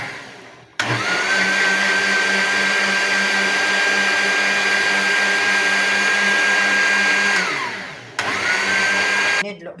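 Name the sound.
beating the ghee and liquid cake ingredients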